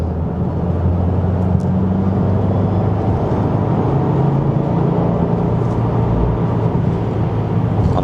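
A 2024 Subaru WRX TR being driven hard into corners, its engine a steady, loud drone heard from inside the cabin with shifting pitch as the car accelerates, with no talking.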